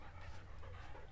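A young Cane Corso dog pants with steady, rapid breaths close by, a soft continuous huffing with no talk over it.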